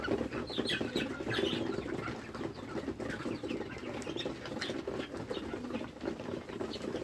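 Chickens on a farm give soft, scattered clucks and chirps over a busy background of pattering and scratching movement, moderately close and fairly quiet, with no talking.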